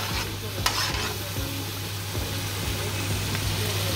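Chicken with spices frying and being stirred in a home kitchen pan, with a steady sizzle and repeated scraping strokes of the spoon, close and continuous throughout, with a faint low hum underneath.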